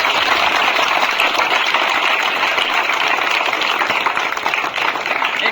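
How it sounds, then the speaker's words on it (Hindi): An audience applauds a newly selected army recruit at a defence academy gathering, the clapping dense, loud and continuous from start to finish with no break. "बस एक बार तालियां इनके लिए लाओ कीजिए।"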